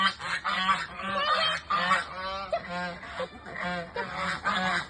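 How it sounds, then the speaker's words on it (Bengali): Geese honk repeatedly at close range, a loud, continuous chorus of overlapping nasal calls with short gaps between bursts. "এই তো রাজহাঁস মনে হয়"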